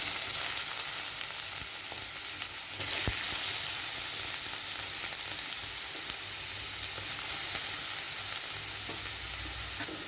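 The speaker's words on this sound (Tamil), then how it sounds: "இப்போ இந்த பூசணிக்காயை நல்லா வதக்கி விட்டுக்குவோம்" Grated yellow pumpkin sautéing in melted ghee in a pan gives a steady, even sizzle that runs close and constant, with faint stirring and no voices.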